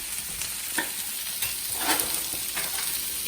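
Asparagus spears sizzle steadily in a hot pan alongside leeks, a continuous frying hiss broken by a few brief stirring scrapes, close and alone with no talk.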